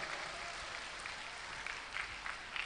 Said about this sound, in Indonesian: Tepuk tangan sekali lagi untuk Pak Bupati dan Bapak Wakil Bupati Ogan Timur.